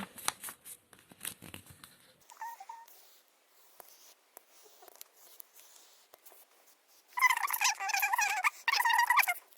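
Scissors cut folded paper into a butterfly shape for a tissue-paper stained-glass craft, making scattered soft snips and paper rustles, then two louder, harsher bursts of cutting near the end.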